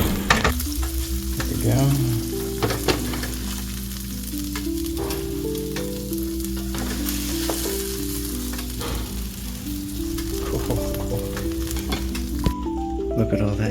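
Grilled cheese French toast sizzles in a pan: a loud, continuous frying hiss with occasional stirring clatter, under background music, with a brief spoken remark.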